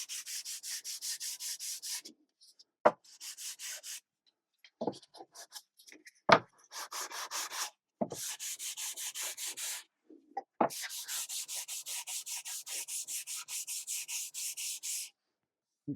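Rhythmic back-and-forth strokes of 180-grit sandpaper rubbing on a wooden dulcimer headstock, close and steady, in several bursts separated by short pauses and a few knocks.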